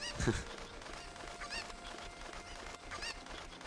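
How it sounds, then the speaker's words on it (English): Chickens cluck and squawk in The Legend of Zelda: Ocarina of Time video game, a few short fowl calls spaced through a faint, busy game background without talk. "And now chickens."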